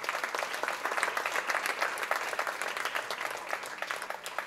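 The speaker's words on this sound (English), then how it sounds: "Can we all give a thunderous applause to El Shaddai Charitable Trust?" Steady audience applause fills a hall at a charitable trust visit, a dense, even wash of many hands clapping at moderate distance, continuous throughout with no talk.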